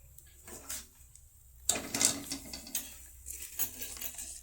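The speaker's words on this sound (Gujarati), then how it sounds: "ઉપરથી થોડો મસાલો નાખી અને એને સારી રીતે મિક્સ કરી લઈશું" Raw banana wafers get tossed with masala on a metal plate, giving light scraping and clattering bursts, sparse at first and then busier and more crisp, close up and with no talk.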